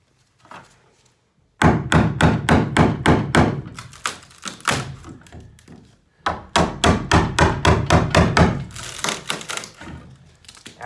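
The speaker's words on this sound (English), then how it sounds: "I'm using a chisel and chiseling the wood off" Hammer blows drive a chisel into wood on a fiberglass camper floor. Two long runs of rapid, loud, close thunks land in steady rhythm, separated by a short pause, with no talking.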